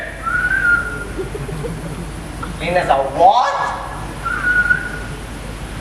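A person whistles a few short rising and falling notes during a church youth Easter play, with people talking before and after.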